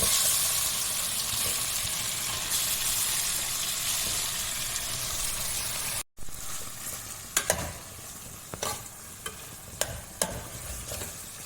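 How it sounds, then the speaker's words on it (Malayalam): Food sizzles loudly and steadily in a hot pan, then after a brief cut a quieter fry continues with occasional sharp clinks of a utensil. "ചെറുങ്ങനെ പൊരിക്കുക."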